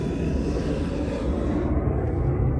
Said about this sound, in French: les avions